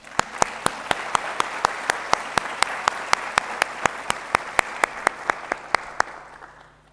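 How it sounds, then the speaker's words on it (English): A round of applause at a medical honor society induction ceremony: a steady wash of clapping from the audience, punctuated throughout by sharp, evenly spaced claps in a regular rhythm. "we owe Reem a huge round of applause"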